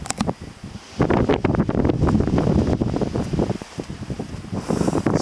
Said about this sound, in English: It's hell windy.